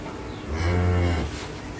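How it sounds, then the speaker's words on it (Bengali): An 11-day-old calf lets out a single close, drawn-out moo lasting about a second, loud against a quiet background. "হ্যাঁ বাচ্চা মাশাআল্লাহ খুব সুন্দর। সুন্দর বাছুর।"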